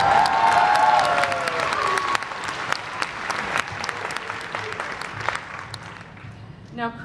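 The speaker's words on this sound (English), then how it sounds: "You can clap now." A studio audience bursts into loud applause with some cheering, clapping strongest at first and then thinning out over several seconds.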